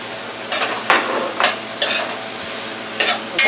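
Peppers tossed into onions sautéing in a pan, brief bursts of stirring and sizzling scrape in several separate strokes, loud and close, quiet between them, no speech.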